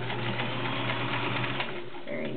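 A Kenmore 1430 all-metal sewing machine stitches fabric with a steady, close, continuous mechanical whir and rapid needle clatter throughout.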